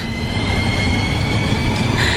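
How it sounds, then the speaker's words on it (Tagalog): A train rumbles steadily into a station. Dense, loud rolling noise and metallic rail hiss fill the whole stretch, and a faint higher squeal of wheels enters near the end. "Nandito na tayo sa next station. Hihinto na ang tren."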